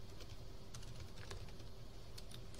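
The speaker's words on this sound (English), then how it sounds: "I'll just type all those in" Rapid keystrokes on a computer keyboard while data fields are entered, a steady stream of faint, close clicks with irregular rhythm and occasional sharper taps over a quiet background.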